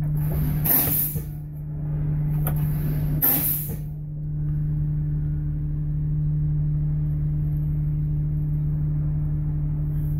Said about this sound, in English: My air compressor governor has cut in at 100 PSI and it's working properly